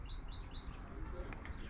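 A pet bird gives several short, high chirps, faint and close, against a low background hum, with a faint voice nearby.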